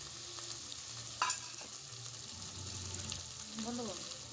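Spice masala with mustard paste frying in a pan for a Bengali parse fish tel jhal curry, a steady soft sizzle with scraping stirs and a clatter of the utensil near the start.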